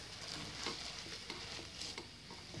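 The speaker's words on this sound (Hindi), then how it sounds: "मुसलसल चम्मच चलाते रहेंगे दूध शामिल करने के बाद" A spoon stirs a flour and milk mixture in a pan, producing a faint, continuous scraping and swishing with soft sizzling texture, steady and close.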